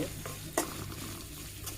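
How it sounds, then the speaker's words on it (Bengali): Turmeric, chilli, coriander and cumin powders frying in oil in a pan, a soft steady sizzle with a sharp stir or scrape near the start and a lighter one near the end; no one speaks. "এটাও একটু এই তেলের মধ্যে ভেজে নিব।"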